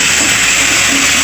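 Water poured onto Kashmiri chilli masala in a hot pan for a Bengali fish curry bursts into a loud, steady, close steam hiss that fills the whole moment without pause.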